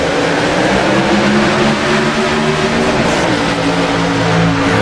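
Race cars roar as they accelerate together off a green flag restart, a dense, loud wall of engine noise holding steady throughout with no pause or talk.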